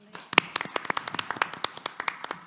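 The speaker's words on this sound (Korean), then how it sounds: "진미수 박사님 박수로 맞아주십시오" A small audience at an academic conference session claps to welcome a speaker to the podium, producing a short run of distinct, separate claps close by, quite sparse and uneven.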